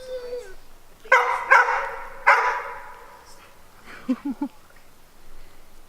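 A dog barks sharply several times in an outdoor setting in Spokane, loud and close, followed by a few quick yips, with a brief faint voice at the start.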